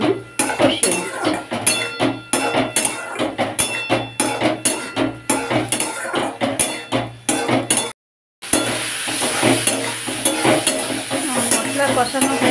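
Spice paste being sautéed with potato and pointed gourd in a pot, a steady sizzle under rapid, repeated scraping and clanking of a metal spoon against the pan, briefly cutting out before resuming just as busily.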